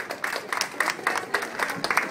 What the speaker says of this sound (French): vos applaudissements pour saluer leurs prestations